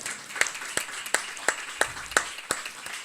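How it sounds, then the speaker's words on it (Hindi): A handful of sharp, separate handclaps ring out at an uneven pace over quiet room tone, as a church congregation claps during a tribute service. "तो परमेश्वर की दासी के लिए भी जोर से ताली बजाएंगे हम"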